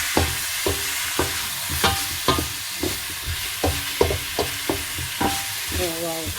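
Garlic and chicken stirred in a frying pan sizzle under a regular run of spatula knocks and scrapes about twice a second, with a brief voice near the end.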